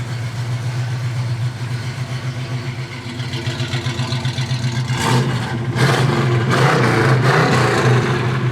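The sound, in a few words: 1965 Pontiac GTO engine revving with dual exhaust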